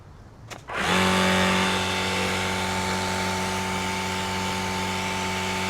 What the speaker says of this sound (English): when you're on the highest setting that the motor is a little bit louder and it's working a little bit faster